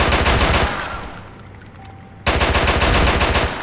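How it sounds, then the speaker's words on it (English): Loud, rapid automatic gunfire in GTA IV, a sustained burst of close shots that fades into a quieter lull and then erupts again into another dense volley. "They shooting at each other too."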